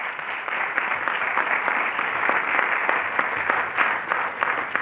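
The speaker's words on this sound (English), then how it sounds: "So let's give them a big round of applause." Audience applause for event sponsors at a multicultural leadership day opening session, a steady patter of clapping at moderate level.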